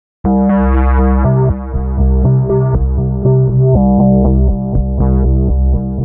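Gritty synthesizer chords sustain at a slow pace, with the tone shifting in occasional steps and small rhythmic accents, loud and upfront with no voices.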